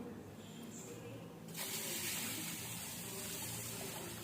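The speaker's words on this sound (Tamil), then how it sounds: "இப்போ ஃப்ரெஷ்ஷான தண்ணி ஊற்றிக்கலாம்" Fresh water pours steadily into a container of soaking green gram lentils, a soft rushing hiss that swells partway through and keeps flowing to the end.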